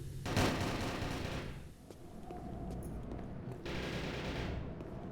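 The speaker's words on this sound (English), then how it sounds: "Gunfire down at the bottom of ramp." Sustained bursts of video game gunfire, dense and noisy, with rapid shots blending into a continuous rattle.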